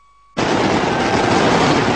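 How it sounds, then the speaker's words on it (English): Fireworks burst over a cricket stadium at a record-breaking moment, a sudden loud explosive onset after brief quiet, then a dense sustained roar of crackling blasts and crowd noise filling the rest. "Sky is alive with fireworks."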